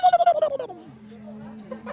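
A man imitates a turkey with a rapid series of gobbling, warbling vocal bursts that break into a lower drawn-out trailing tone, close and alone in a studio setting.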